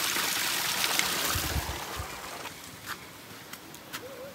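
Water streaming from spouts in a hillside village, a steady rushing flow with splashing that stays fairly loud throughout, plus a few faint clicks near the end.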